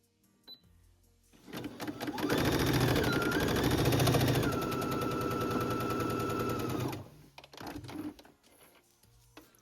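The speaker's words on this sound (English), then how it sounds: "I'm gonna face my band right sides together at the bottom and sew that closed right here" A sewing machine runs a straight stitch closing a fabric band, its rapid needle clatter sounding close and loud for about five seconds after a few slow starting stitches, then slowing and stopping with a couple of final ticks.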